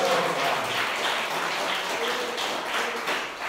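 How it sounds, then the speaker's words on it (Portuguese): A church congregation clapping together during a worship service, a dense, steady wash of applause heard from within the crowd with voices mixed in. "Bate palmas, dá glória a Deus."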